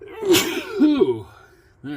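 A person sneezes once, sharp and close, and a voice follows right after.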